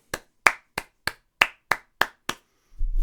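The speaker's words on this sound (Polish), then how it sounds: "Należałoby wstać, zacząć klaskać i zrobię to." One person clapping hands alone, eight sharp separate claps at an even, slightly slow pace, close and dry, ending in a short low rumble.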